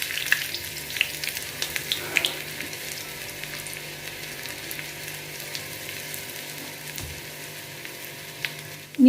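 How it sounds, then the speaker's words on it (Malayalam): Chopped shallot frying in hot coconut oil with popped mustard seeds for a Kerala coconut fish curry tempering, giving a steady, soft close sizzle with faint crackles and no talk. "ഇതിലേക്ക് ഒരു ചെറിയ ഉള്ളി ചെറുതായി അരിഞ്ഞ് ചേർത്ത് മൂപ്പിച്ചെടുക്കാം"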